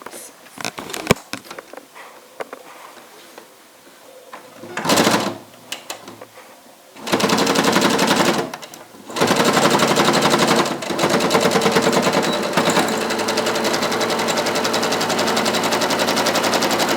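A sewing machine stitches a skullcap in several runs, with rapid close mechanical chattering bursts between pauses, the last run long and steady; someone speaks between stitching.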